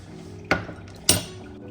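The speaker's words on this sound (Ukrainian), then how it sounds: "Отак перемішую." Soup with dill stirred in a pot: two sharp, close metallic clinks of a utensil against the pot, about half a second apart, over a quiet background.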